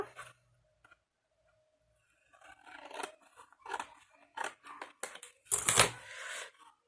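Scissors snip through paper tabs for a washi tape storage scrapbooking project, a string of short crisp cuts with handling rustles between them, close and fairly quiet, growing busier toward the end.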